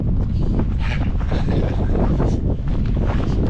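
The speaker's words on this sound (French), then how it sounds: "Ouais, il y a du vent." Strong, steady wind buffeting a microphone outdoors by a lake during the Verbier St-Bernard trail race, a loud continuous roar with gusty rumbling throughout and no voices.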